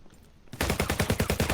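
Rapid automatic gunfire from a VR shooter game, ALVO, bursts in suddenly after a brief quiet lead-in and rattles on as a steady, loud, close stream of shots with no talk.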